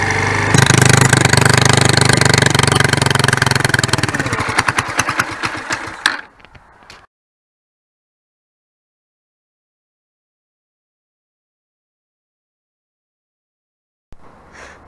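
A Lexmoto ZSB 125 motorcycle engine with its EGR valve blanked runs loudly and steadily, then cuts out abruptly, followed by several seconds of silence before a faint sound returns at the end.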